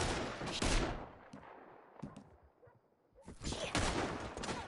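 Rapid gunfire and heavy shooting from a shootout in the video game Red Dead Redemption 2, loud bursts at the start and end with a brief quieter lull in the middle.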